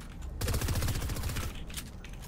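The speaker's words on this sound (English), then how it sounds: "Rapid fire." Rapid gunfire bursts in a video game, sustained and dense for about a second, then trailing off into a couple of quieter shots.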